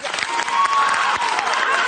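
A crowd claps steadily and loudly throughout, a dense wash of applause with some cheering mixed in.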